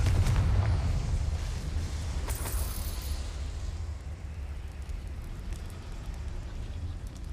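A Confringo spell explosion in Hogwarts Legacy, a heavy low boom that opens loud and rolls into a long rumbling tail, with a bright crackling burst of debris a couple of seconds in before the roar slowly fades.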